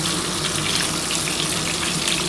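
Pomfret fish pieces fry in hot oil, giving a steady, dense, close sizzle that continues evenly without talk.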